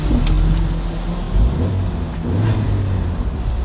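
A loud 2008 BMW Z4 Roadster 2.0i engine idles and revs steadily up close, with a deep rumble and brief rises in pitch, no voices.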